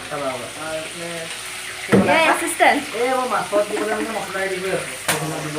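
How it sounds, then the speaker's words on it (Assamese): Fish sizzles as it fries in a pan, a soft crackling hiss running beneath a person talking almost continuously, with a few clattering bursts from handling. "আপুনি কাৰণে মাছ ফ্ৰাই কৰি আছো"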